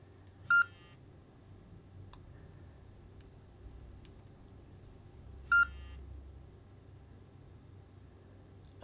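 Two short, clear electronic beeps about five seconds apart from a FLYSKY G11P transmitter's temperature sensor alarm, sounding over a quiet low background hum.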